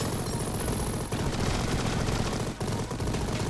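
Continuous machine gun fire from the video game Mighty Goose rattles loud and dense throughout, as a rapid unbroken stream with only a couple of brief gaps.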